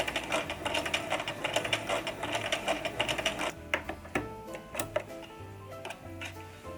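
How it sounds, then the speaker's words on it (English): A sewing machine stitches bows onto a bag, its needle ticking in quick, steady rhythm, then slowing to sparser, separate clacks as it runs on gently up close. "Insert sewing machine sounds."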